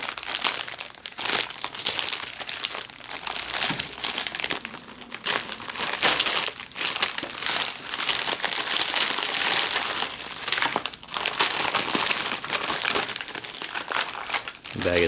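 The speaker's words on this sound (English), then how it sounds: "This is the inner plastic bag in here." A plastic inner bag from a 2005 cold-weather MRE, beef stew menu, crinkles and crackles loudly and almost without a break, handled close up with bursts of crunching, while someone talks over it.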